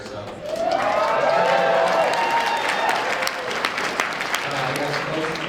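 A rowdy crowd of about 700 at a public talk in Edmonton bursts into sustained applause and cheering, loud and dense, with whoops and voices rising over the clapping.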